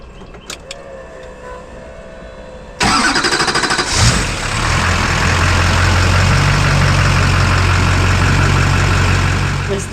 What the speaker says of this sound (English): You just hold it, it clicks, and the old Duramax will come alive.